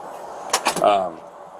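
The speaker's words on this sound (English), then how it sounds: "No, I want you to close the door." A door is closed, giving a few quick knocks and a soft thud, with a low hum running underneath.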